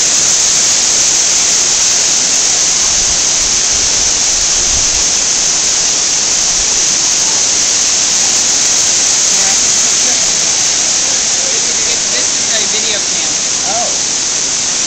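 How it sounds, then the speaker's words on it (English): A waterfall at the top of a long staircase of about 600 steps roars as a loud, steady broadband rush of falling water, continuous and close throughout with no break. "Here's the waterfall again."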